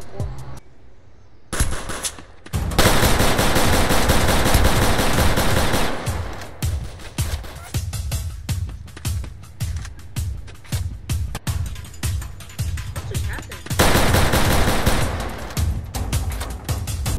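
Gunfire in the Roblox game South Bronx comes as bursts of rapid automatic shots and single cracks, loud and close, with short pauses between volleys and a quieter stretch of scattered shots in the middle.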